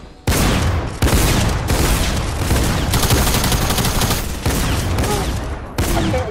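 Rapid Fortnite gunfire crackles in loud bursts of fusillade and machine-gun-like shots, broken by brief pauses, close and dominant with little else audible.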